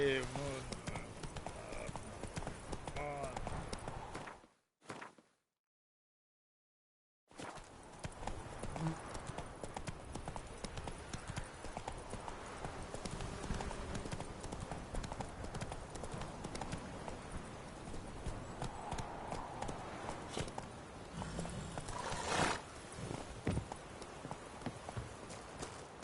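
Horse hooves clip-clopping steadily in the video game The Witcher, a continuous rhythmic trot close by, broken by a short silent gap, with game dialogue spoken over it.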